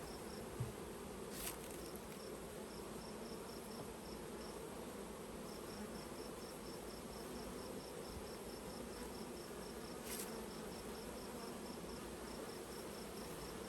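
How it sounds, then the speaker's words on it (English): Thousands of honey bees hum steadily around an open hive in early June in Grand Rapids, Michigan, a dense, even drone close by with faint intermittent ticking over it and no voices. "How many thousands of bees is that?"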